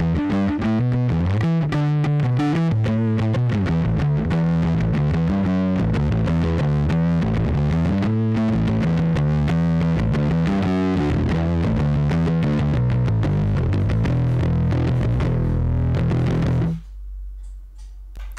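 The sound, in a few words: 1970 Fender Precision bass played through distortion and overdrive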